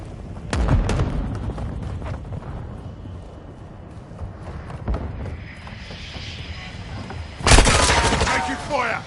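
Call of Duty MWII combat: scattered close gunshots and booming blasts over a steady rumble of battle, with a loud burst near the end.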